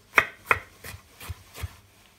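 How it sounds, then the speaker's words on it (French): A knife coarsely chops seeded tomatoes on a cutting board in about five distinct, evenly spaced strokes, close and crisp, with no talking. "on va les prendre et on va les hacher grossièrement"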